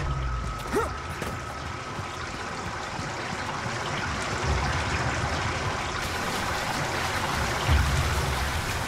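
Steady flowing water in a Magrunner: Dark Pulse laboratory level, a continuous gentle rushing stream with a few faint clanks, no speech over it.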